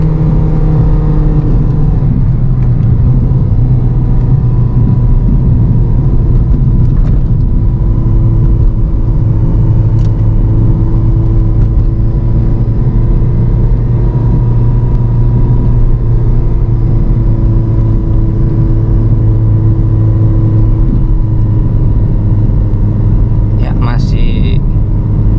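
A second-generation Toyota Vios in second gear labours up a steep mountain incline, its engine droning in a low, steady, loud hum with road rumble, while a voice talks over it.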